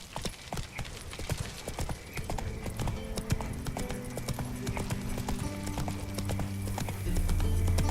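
Geralt's horse Roach gallops in The Witcher 3, a fast, close run of hoofbeats that holds steady throughout, while a low droning tone rises and swells under it toward the end.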